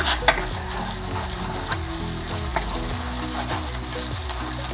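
Chili paste frying and being stirred in a pan for a chicken lollipop sauce, a steady close sizzle with scraping stir strokes and occasional sharp pops.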